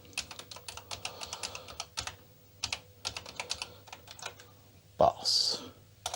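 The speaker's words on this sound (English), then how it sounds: "Maybe you have to type out the whole thing, or can you just type run?" Keys clatter on an Amstrad CPC 6128 computer keyboard as a command is typed, quick irregular bursts of close clicks with short gaps and a sharper sound near the end.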